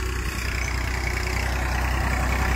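A 40-42 horsepower tractor fitted with a 9-tine tiller runs steadily on a farm field in Meerut, its low diesel drone droning close and constant with no talk over it.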